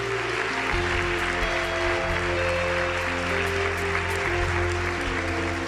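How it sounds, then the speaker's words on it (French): A congregation applauding at a charismatic church service, steady dense clapping from many hands throughout, with sustained music or organ tones underneath. "Uma linda salva de palmas pelo seu milagre."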